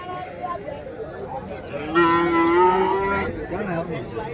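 A cow lets out a single long, loud moo midway through, with faint crowd chatter and background noise around it.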